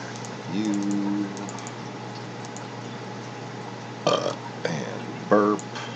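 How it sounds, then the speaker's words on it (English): A loud, drawn-out human burp close to the microphone, followed by brief keyboard clicks and a couple of short vocal sounds over a steady electrical hum. "And burp."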